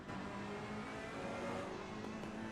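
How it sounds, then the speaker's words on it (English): A Ferrari and a BMW GT race car dueling wheel to wheel through turn 14 at Misano during a six-hour endurance race, engines droning steadily and faintly at a distance over a brief stretch. "this battle for 13th between the 29 Ferrari and the 888 BMW, as the Ferrari gets a little bit wiggly entering turn 14"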